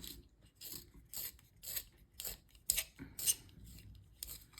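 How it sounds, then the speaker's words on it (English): Manual pencil sharpener grinding a pencil lead point in a series of short, crisp scraping bursts, close-up and quiet, around ten strokes with a rough rhythmic texture. "Let's actually sharpen the lead there."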